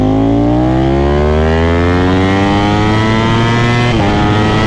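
A Ducati Panigale V4 SP2 with a Stage 2 ECU flash, accelerating hard, a loud close engine note climbing steadily in pitch through the revs, with a brief dip near the end before rising again.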